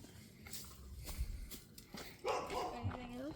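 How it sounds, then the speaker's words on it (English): Dogs bark off to the side in a few short, scattered bursts, with people talking over them outdoors. "Shut up, dogs."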